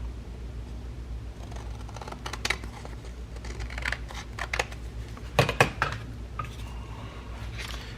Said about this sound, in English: I'm going to trim a tiny bit off right here because I folded crooked